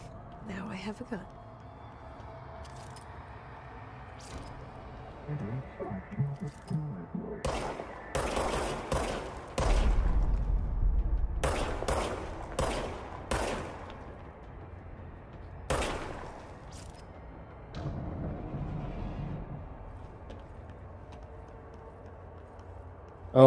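Repeated bursts of gunfire from a rechargeable gun in the video game Control, played on a Steam Deck. Sharp shots cluster in quick volleys through the middle stretch, with a person talking in between.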